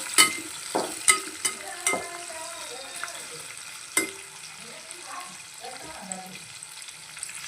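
Onions fry quietly in a pan for a cabbage palya, a faint sizzle running under sharp clinks and scrapes of a stirring spoon, with soft voices at times.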